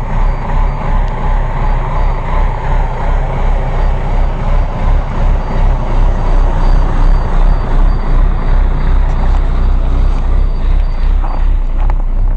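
A 1993 DTA360 diesel engine idles after a cold start on thick oil, giving a loud, steady low rumble with a regular throbbing pulse and no talk over it.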